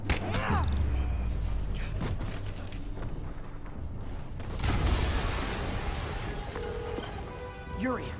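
A muffled, distant explosion rumbles through a Marvel's Spider-Man game scene, its low boom swelling midway under layered game noise and mechanical clatter.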